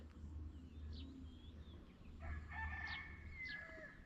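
A rooster crows a short way off over a steady low hum, with a second crow rising partway through and a few other bird calls around it.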